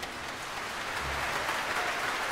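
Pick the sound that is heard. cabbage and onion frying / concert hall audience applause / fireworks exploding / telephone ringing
concert hall audience applause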